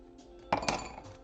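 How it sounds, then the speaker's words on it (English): Three ice cubes clink into a serving glass, a cluster of bright close glassy knocks about midway followed by a short rattle as they settle, fairly quiet overall. "3 ice cubes in there"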